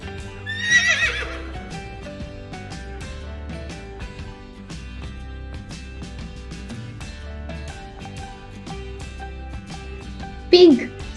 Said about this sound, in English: horse sounds like